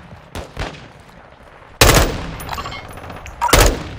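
Bursts of gunfire from the video game Call of Duty Modern Warfare II Warzone: faint distant shots early, then a loud close burst of automatic fire and another sharp volley near the end.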